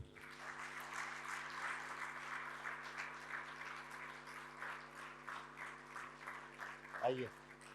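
An audience at a Republic Day mushaira claps in a sustained wave of applause to welcome a poet, fairly soft and distant, running throughout with a host's voice heard briefly near the end.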